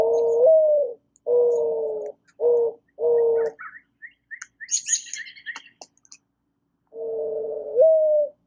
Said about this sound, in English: I typed this in, doves cooing, and here's a video so you can hear what it sounds like